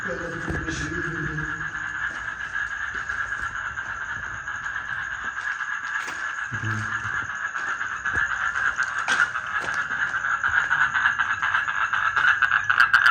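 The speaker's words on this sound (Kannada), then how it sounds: "ಕಪ್ಪೆಗಳು" Frogs croak at night in a dense, continuous chorus that builds slightly louder toward the end, with a few brief voices and low knocks mixed in.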